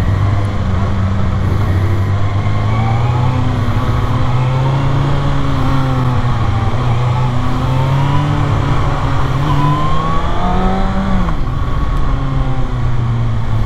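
A Kawasaki ZX6R motorcycle accelerates hard with a quick shifter, its engine whine climbing in pitch and then dipping sharply at each quick gear change several times, loud and close with steady wind rush.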